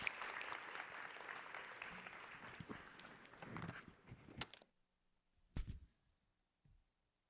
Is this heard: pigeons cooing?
no